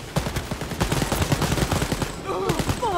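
Rapid bursts of gunfire from the shooter game Wolfenstein: Youngblood, a fast volley of repeated shots that fills the clip, close and loud, with a player's voice briefly audible near the end.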